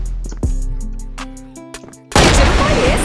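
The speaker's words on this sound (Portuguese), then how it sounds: "Que tiro foi esse, hein?" Gunfire in the CrossFire video game: a few sharp popping shots and game sounds, then a loud, sustained burst of noisy blast at the end, close and dominant.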